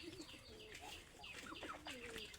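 Pigeons released from a farm loft, with soft cooing, chirps and brief wing flaps, faint and close-by against a quiet outdoor background.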